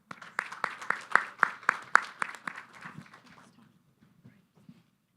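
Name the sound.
audience applause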